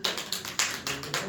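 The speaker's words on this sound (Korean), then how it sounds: "우리 박수" Church congregation applauding after a pastor announces a Bible gift to a member, a short burst of several sharp claps spaced in rough groups, fairly quiet and close, with no voices.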